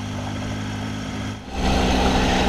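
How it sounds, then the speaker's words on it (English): A Triumph Tiger motorcycle engine pulling steadily in second gear up a steep, rocky Ozark trail, a continuous close drone that briefly dips and then swells louder as the throttle opens. "Nothing the Tiger can't handle in second gear."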